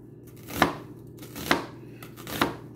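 A knife chopping an onion on a cutting board, with three distinct, evenly spaced chops close up in a quiet room.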